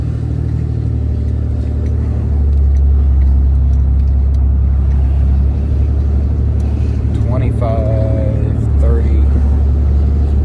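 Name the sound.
Ram 2500 6.7L diesel engine revving briefly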